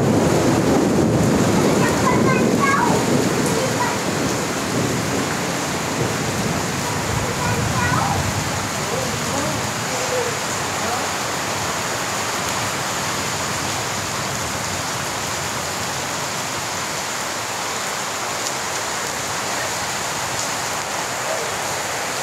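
Heavy rain pours down steadily in Varanasi during a storm, a loud continuous wash of rainfall close by with no distinct thunderclap standing out, and a voice speaking over the first few seconds.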